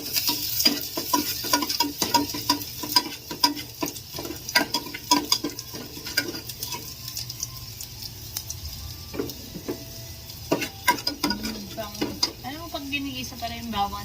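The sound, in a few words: sautéing garlic and onion in a pan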